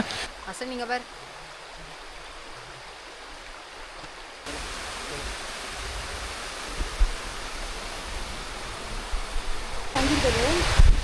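A Kerala waterfall running low on water gives off a steady, broad rushing hiss that grows louder partway through, with a voice heard briefly at the start and near the end.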